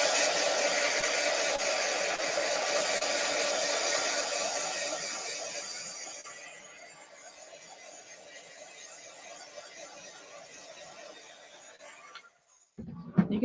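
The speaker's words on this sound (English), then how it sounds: "So I'm just gonna hit this with a heat tool to dry it a little." A heat tool blows steadily while drying an inked card for a stamping class, a loud hissing whir for about six seconds before dropping to a quieter hum and cutting off near the end.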